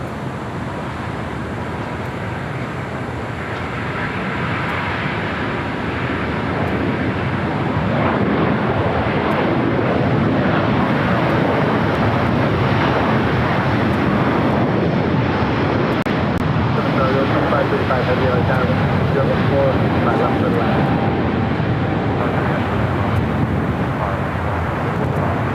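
An ITA airliner accelerates down the runway at LAX for takeoff, a broad jet roar that swells after a few seconds and then holds loud and steady. Faint radio chatter can be heard underneath.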